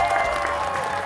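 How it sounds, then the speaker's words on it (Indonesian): A short burst of steady applause rises for the contestants in a televised cooking challenge, with a crowd clapping densely and loudly throughout. "tepuk tangan deh buat peserta yang hari ini"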